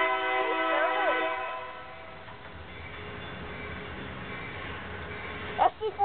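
A Union Pacific freight train led by a pair of SD40N locomotives sounds its horn in long, tonal blasts, then rumbles on with a steady rail hum. A voice is briefly heard near the end.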